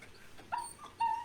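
A puppy gives two short, thin, high whimpers close to the listener, separated by a brief pause, in an otherwise quiet room.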